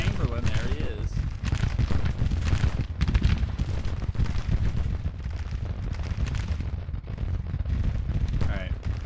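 Civil War artillery and musket fire crackles and booms steadily in a large Grand Tactician battle, a dense and continuous barrage of shots with a voice talking over it.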